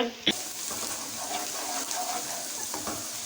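Chopped onions turning light brown in a pan, a steady close crackling sizzle with soft stirring scrapes throughout, heard under a voice.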